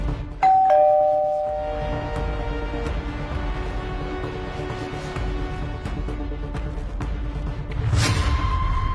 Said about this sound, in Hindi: देखो वो घंटी रही। चलो बजाते हैं